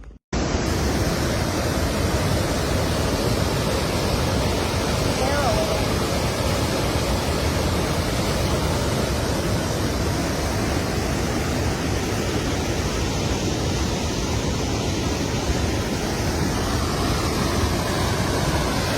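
Big waterfall on a river in Napanee, a loud, continuous broadband roar of rushing, crashing water heard up close, steady for the whole stretch with no talk.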